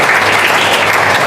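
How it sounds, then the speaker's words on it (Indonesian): Crowd at the opening of a youth festival claps for the participants, a dense and loud wash of applause from many hands filling the space. "tepuk tangan buat para peserta ya"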